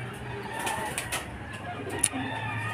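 Racing pigeons coo softly on returning from a training flight, amid background hum, with a brief flutter of wings and a sharp click near the end.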